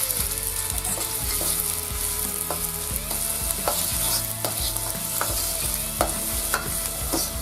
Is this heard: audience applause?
no